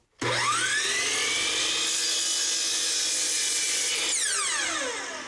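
A miter saw spins up with a rising whine, bites through a short wooden piece for a few seconds at a steady loud pitch, then winds down after the cut, heard close with no talk.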